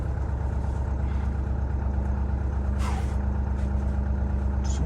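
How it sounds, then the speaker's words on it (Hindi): A Mahindra Thar engine idling right after a hard cold start in wintry Spiti, a loud, steady low rumble with a faint hiss and brief squeak near the middle, with no talking. "चलो गाड़ी स्टार्ट हो गई एट लास्ट।"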